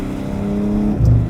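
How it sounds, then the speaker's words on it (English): A sports sedan engine hums steadily near the listener, then a gear change brings a short punchy low burst as the revs drop, the shift thunderclap rumbling close and loud. "I love those little thunderclaps you get when you change gear as well."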